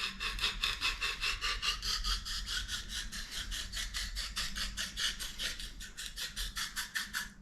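A knife blade is stroked over an oil stone in a quick, steady run of about two dozen rasping passes, close and fairly quiet.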